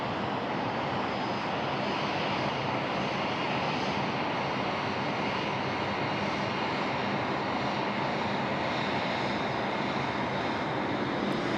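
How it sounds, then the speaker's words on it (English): Airliner on arrival to runway 16 right at Sydney Airport at night in heavy rain, a steady broadband engine roar blended with rain noise, holding constant throughout with no talk. "Jetstar from the Gold Coast just joining us here now, 16 right."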